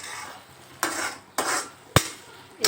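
A spoon stirs peas and masala sautéing in a pan, four scraping strokes at roughly half-second intervals, each a short loud swish over a faint background.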